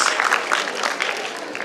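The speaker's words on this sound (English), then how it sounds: "Give him a big round of applause and the girl as well" A burst of dense, continuous audience applause for quiz prize winners, steady and fairly close, filling the whole moment with no talking over it.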